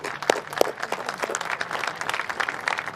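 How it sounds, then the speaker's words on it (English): At a boxing press conference for a light heavyweight fight, an audience applauds Michael Buffer with a moderate, steady burst of clapping heard at a slight distance, without voices. "Let's get a round of applause for Michael Buffer"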